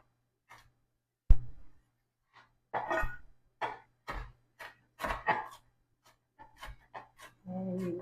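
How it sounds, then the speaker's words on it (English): Fresh garden parsley chopped by hand with a knife on a cutting board for chimichurri, a series of short, separate close-up chopping knocks with uneven gaps, fairly quiet. "I'm just going to chop this up."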